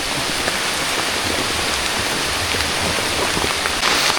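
Heavy rain pours steadily on the Argopuro mountain hiking trail via Baderan, a dense continuous close patter and wash of drops with no break.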